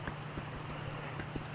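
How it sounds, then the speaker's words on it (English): Horse hooves clip-clopping in a regular, fairly quick rhythm, close and distinct over a low steady hum, with no voices. "Is that horse?"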